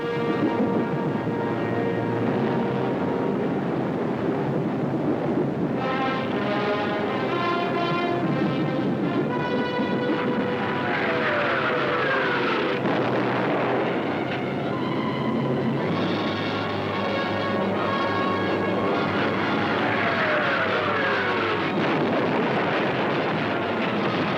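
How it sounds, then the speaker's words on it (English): German night bombers of World War II drone in flight in an old newsreel soundtrack, a continuous rough roar with wavering and swooping engine tones that rise and fall throughout. "All the available German night bombers were put into the air."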